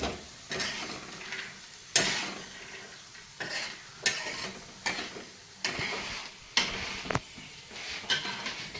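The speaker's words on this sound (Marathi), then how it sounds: "हे बघा हे असे पटकन शेंगदाणे मी भाजलेले तेलामध्ये." Peanuts roasting in oil in a pan, heard as a soft sizzle under repeated scraping and stirring strokes of a utensil against the pan, close and rhythmic, about one stroke per second.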